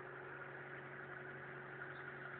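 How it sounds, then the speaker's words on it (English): A car with a 9.2 engine idles in a steady, faint, even hum with a low drone and no changes in pitch, and no one speaks. "Engine runs great."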